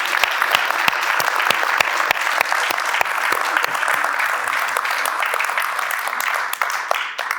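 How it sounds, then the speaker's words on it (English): Audience applause following a lecture: a dense, sustained burst of many hands clapping that carries on evenly throughout. "So can we applaud Gillian, please?"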